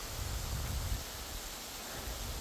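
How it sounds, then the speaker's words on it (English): Steady, dense hiss of rain pattering on a tent's fabric on the Pacific Crest Trail, continuous and even throughout, with a slightly heavier low rumble early on. "Just like a steady rain on the tent."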